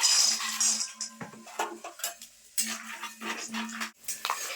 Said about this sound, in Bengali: তো বাদামগুলো কিন্তু আমি ভেজে নেব